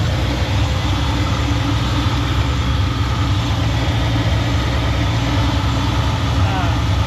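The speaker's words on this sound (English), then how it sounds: "It does idle a little high." An AMC 4.2L inline engine idles slightly high, a steady, even rumbling drone held close and constant throughout, with someone talking over it.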